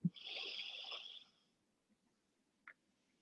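A single soft, close breath pushed out through the left nostril during a breathing exercise, a hissing exhale lasting about a second, followed by near silence and one faint click.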